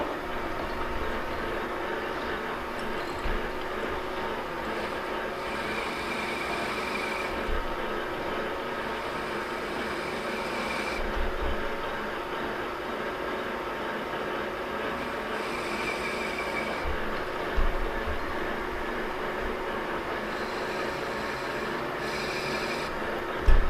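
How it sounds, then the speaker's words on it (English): A threading tool on a metal lathe cuts a bevel and breaks the edge of a metal part, producing a continuous gritty scraping hiss over the running machine's hum, close and steady with slight swells. "I'm going to use my threading tool here. I'm going to cut a bevel here and break that edge here."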